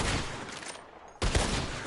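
A rapid burst of gunshots rings out at a shooting contest in Red Dead Redemption 2, a dense volley at the start, then a short lull and another sharp cluster of shots.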